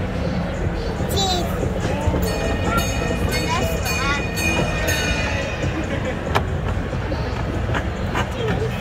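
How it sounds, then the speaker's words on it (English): A small ride-on train rolls along inside a shopping mall, a steady mechanical rumble with light clatter and squeaks, carrying on under children's voices and an adult talking throughout. "You on a train at the mall?"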